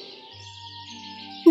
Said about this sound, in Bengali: সারাদিন শুধু কিচকিচ আর কিচকিচ, শান্তিতে ঘুমোতেও পারি না